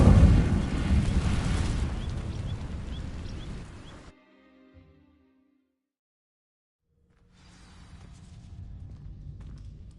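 An Incendio fire spell cast in Hogwarts Legacy: a loud rushing, roaring burst of flame that swells and then fades out to silence, followed by a quieter crackling rumble returning later.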